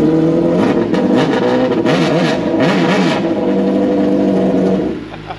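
A 2022 Gen 3 Suzuki Hayabusa with its stock exhaust revs hard nearby, its throaty exhaust rising and falling in repeated surges before dropping back to idle.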